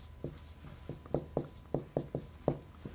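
Pen or chalk scratches out quick handwritten strokes during a maths lecture on the implicit function theorem, about nine short, crisp scrapes in an uneven rhythm, close and clear with no talking.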